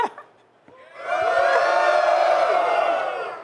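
Live tech-conference audience at a Microsoft Build stream cheering and whooping in a cheer-off vote, starting after a brief quiet moment then swelling into sustained loud crowd voices.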